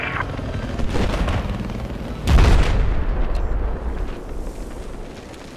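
Loud, booming explosions and rumbling gunfire in a tank combat game, a dense continuous barrage with one heavier blast near the middle before it slowly fades.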